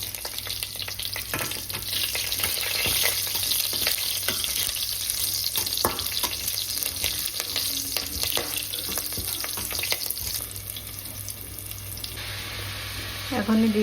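Dry red chillies, black cumin and two green chillies sizzle and crackle in hot oil in a pan while being stirred, with scraping clicks over a steady frying hiss.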